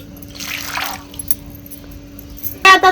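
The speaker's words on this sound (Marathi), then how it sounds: "आता परत दुसऱ्या पाण्याने धुते." Field beans being washed in a second change of water, soft swishing and trickling of water around the beans, faint and close, followed by a brief clink at the end.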